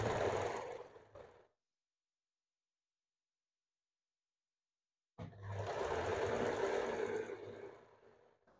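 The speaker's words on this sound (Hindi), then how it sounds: "अभी हमें हुक पट्टी आई पट्टी सिलाई करना है।" A sewing machine stitches a hook strip onto a blouse, whirring in a fast, even buzz that stops abruptly, leaves a few seconds of silence, then starts again and runs before tapering off.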